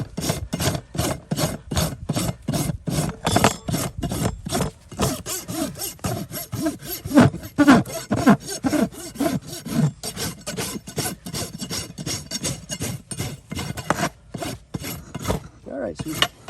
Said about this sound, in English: So the rasp is right up onto the hoof wall.